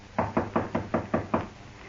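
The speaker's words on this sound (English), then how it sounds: "Shall I knock now?" Knocking on a door as a radio drama sound effect: seven evenly spaced raps, loud and close, heard on their own.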